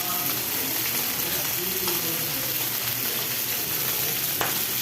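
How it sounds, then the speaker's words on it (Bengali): Pointed gourd curry and fish frying in a pan, a dense continuous sizzle and crackle filling the whole stretch, loud and close, with a voice faintly in the background. "এখানে আবার যে পটল তরকারি হয়ে যাচ্ছে, কষাই করছি"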